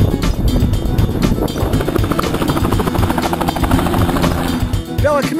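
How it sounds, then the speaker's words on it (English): A helicopter's rotor thumps loudly and close in a steady, rapid chop that runs the whole time, with rushing wind noise. "Do you like to go in the helicopter?"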